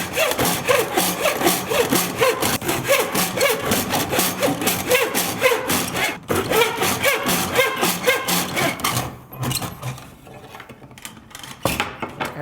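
A hand saw cuts grooves into wood for a canvas strainer frame, with steady rapid back-and-forth rasping strokes, close and loud, for about nine seconds, then fading to quieter scraping and handling noises.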